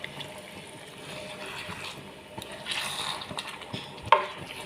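Beef stock pours into a pot of tomato stew with beef, giving a soft steady liquid splash and a simmering sizzle, with light stirring and a sharp clink of a utensil near the end.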